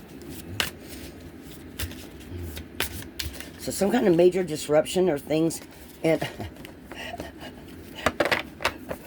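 Tarot cards are shuffled in a rapid riffling burst near the microphone, with separate card taps and flicks before and after. A person talks over parts of it.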